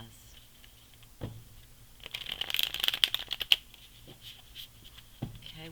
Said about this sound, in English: We're going to redo that shuffle because that was a mess.